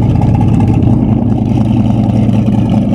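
A ZL1 Camaro on drag radials at a car show, its engine running loud and close with a deep, rough, steady rumble that holds without letting up.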